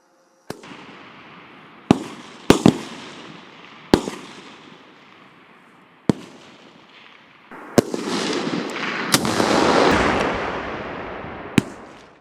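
Sharp blank-fire shots and blasts from a military sport exercise with mortar fire support, Sookoll 2017 competition, heard as a series of separate loud cracks at irregular intervals, with a rumbling explosion-like roar swelling in between.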